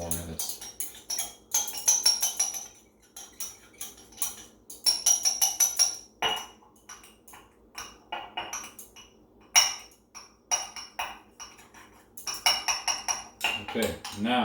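A stirring rod clinks and scrapes rhythmically against a glass beaker while a solution is dissolved, producing close, bright ringing taps in bursts.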